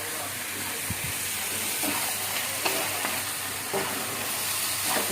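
Mutton sizzles and fries in a new kadai, a steady bright hiss with occasional stirring scrapes, moderately quiet with no talk.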